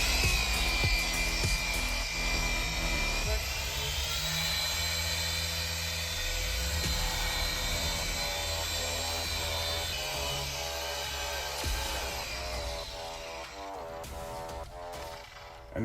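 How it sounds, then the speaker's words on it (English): A dual action polisher running at speed 3 works over the paint of an OG Toyota Tundra, a continuous near whine and hum holding steady for the whole stretch with slight shifts in pitch. "just to make sure that the dual action is doing its job and removing any kind of hologram"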